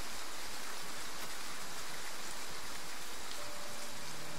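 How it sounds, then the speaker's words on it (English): Rain falls in a video game, Project Triangle Strategy, as a steady, soft hiss of drops that carries on evenly throughout, with no voices over it. "Rain! Honest to goodness, rain!"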